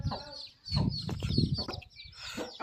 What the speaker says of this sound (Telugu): మా కోడి పిల్లలు ఎంత బాగున్నాయి చూడు